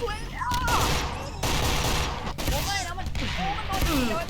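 Rapid gunfire bursts in the video game Monster Hunter, loud and continuous with short pauses, mixed with game effects and excited talking over it.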